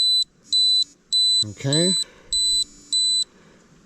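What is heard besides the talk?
satellite communicator SOS alarm beeping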